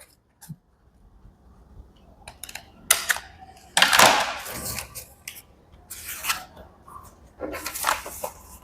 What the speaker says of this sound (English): cutting out the shapes that you want. I can move the paper around or move my scissors around.